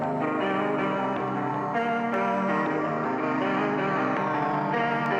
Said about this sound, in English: So right now, the guitar is gonna sound something like this.